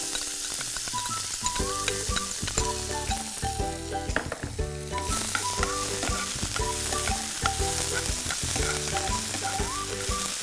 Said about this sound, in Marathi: तर ही मेथी आपण इथे टॉस करणार आहे